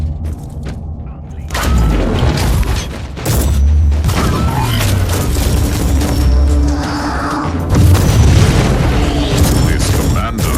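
Grenade blasts and heavy combat in the action RPG Warhammer 40,000: Inquisitor – Martyr, with deep booming thuds and rumbling impacts layered over a continuous loud battle din, and game voices speaking across much of it.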